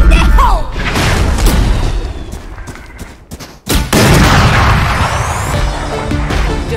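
Loud, dense bursts of Phantom rifle fire in the Valorant-style shooter Arcade mode, rapid shots and booming impacts filling the scene, with a brief drop near the middle before the firing resumes.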